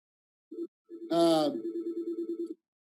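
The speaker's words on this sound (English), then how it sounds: "I'm sorry for that phone ringing." A telephone rings indoors with a rapid, trilling bell pattern in short repeated bursts, and a voice briefly overlaps the ringing.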